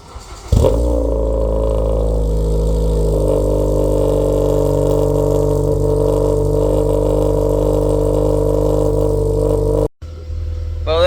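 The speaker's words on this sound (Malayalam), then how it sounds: "അപ്പോൾ നമുക്ക് വണ്ടീൻ്റെ കോൾ സ്റ്റാർട്ട് കേൾക്കാം" A car engine cold-starts after an oil change, catching with a sharp burst and then settling into a loud, steady, close idle that runs for about nine seconds before cutting off abruptly near the end.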